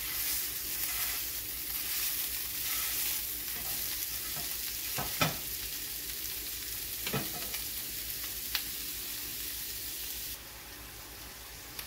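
Sausage browning in a pan over just under medium heat for Thanksgiving stuffing, a steady broadband frying hiss with a few sharp pops and spatula scrapes, close and moderately loud, with no talking.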